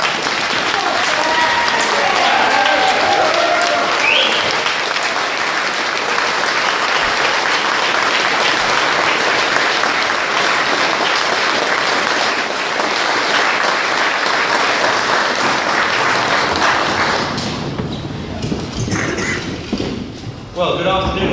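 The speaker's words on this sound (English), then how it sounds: "Please give a massive round of applause and welcome to the stage, Gerard." An audience at a UKIP Young Independence Conference in Worcester claps loudly and continuously to welcome a speaker to the stage, a dense sustained wash of applause that thins and fades toward the end.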